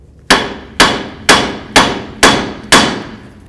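A hammer strikes the steering knuckle of a 1984–2001 Jeep Cherokee six times in an even rhythm, each blow loud and close with a brief ringing decay.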